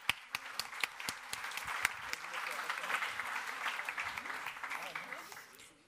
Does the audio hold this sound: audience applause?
yes